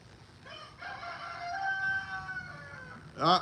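A rooster crows outdoors in one drawn-out, rising cock-a-doodle-doo call at moderate distance, over quiet background ambience, followed by a brief sharp call near the end.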